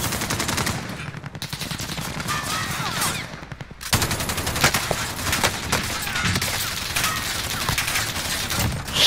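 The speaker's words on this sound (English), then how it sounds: "Big ass machine gun, okay." Heavy machine gun fire in the Call of Duty Warzone video game, with dense, rapid bursts and shots running loud and almost nonstop, broken only by a brief lull, with no talk.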